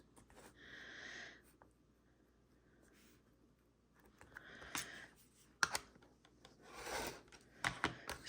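A rotary cutter slices quilt fabric strips along a ruler, giving faint scraping, rubbing strokes in separate bursts with quiet gaps between, close up and soft.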